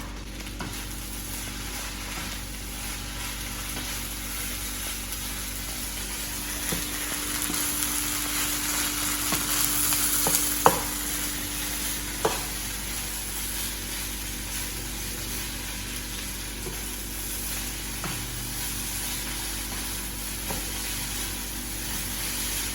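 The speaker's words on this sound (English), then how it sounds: "I'll be adding the baby spinach now." Baby spinach stirred into a hot pan for a vegan beans and rice bowl, giving a steady soft sizzle throughout with a couple of faint utensil taps.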